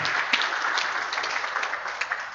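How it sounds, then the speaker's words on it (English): Audience applause at a Software Freedom Day event greeting a Linux User Group Ghana patron, a brief burst of continuous clapping from a gathered crowd, fairly close and even throughout. "A round of applause for him."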